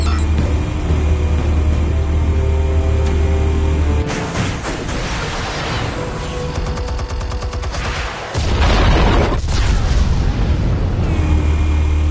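Explosives detonating in the Batman: The Telltale Series video game, loud dense blasts and rumbling debris that roar continuously over many seconds against a heavy low drone, with a brief dip before the rumble surges again.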